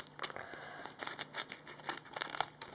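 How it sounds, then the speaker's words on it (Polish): Scissors cut open a Panini Select Soccer 2015-16 card box, with a quick series of close, crisp snips and small plastic crinkles repeating steadily. "Ładnie trzeba uciąć, żeby nic nie uciąć"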